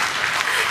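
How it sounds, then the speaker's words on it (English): Loud, dense applause from a keynote audience, a short continuous burst of many hands clapping together. "It's okay to clap."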